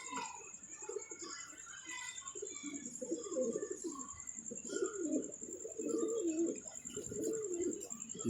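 Pigeons cooing in low, soft bursts that repeat throughout, with a steady high-pitched whine running constantly in the background.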